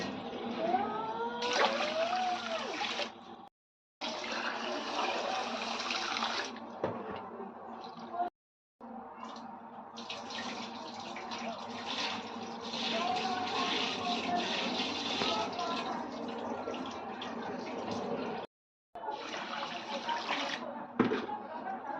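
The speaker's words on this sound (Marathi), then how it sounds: "चांगलं स्वच्छ तीन चार पाणी अजून धुवून घेणार आहोत आपण" Rice is rinsed by hand in several changes of water, with sloshing, swirling and pouring sounds close by, broken by short pauses, and a voice talks over much of it.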